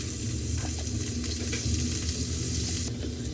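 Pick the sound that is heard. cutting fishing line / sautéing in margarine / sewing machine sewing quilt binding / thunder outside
sautéing in margarine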